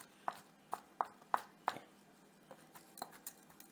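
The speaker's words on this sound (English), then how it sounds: "I'm just going to run my knife over them" A knife runs over thin-sliced food on a cutting board for shrimp and grits, giving a row of short, crisp taps up close. The taps are fairly quiet and slightly irregular.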